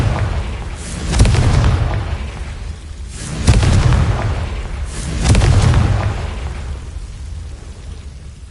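Confringo spell explosions in Hogwarts Legacy on PS5: three heavy booming blasts about two seconds apart, each a sharp crack followed by a deep rolling rumble that fades, with no voices.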